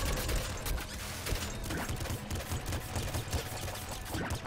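Dense rapid laser weapon fire in the video game Nuclear Throne, a continuous clattering barrage of overlapping shots under busy game sound, steady and fairly loud throughout.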